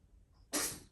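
A single person's sneeze bursts out at close range, a short loud blast that fades quickly after a quiet start, with no talking over it.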